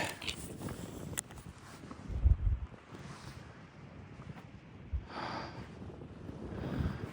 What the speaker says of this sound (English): Also, the wind is just constant and it's freezing.